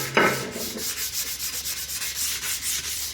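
Sandpaper rubbed by hand over a car's brake rotor to smooth it after power sanding, making a steady series of close, rhythmic scraping strokes, about a dozen back-and-forth passes with a brief thump at the start.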